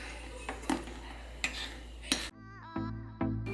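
A utensil stirring food in a pot on a home stove, a few sharp scraping clinks of metal against the pot spaced about a second apart.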